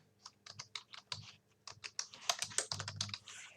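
Quick bursts of keystrokes on a computer keyboard during hospital billing data entry in Excel, close and clear, with short pauses between typed fields and no talking.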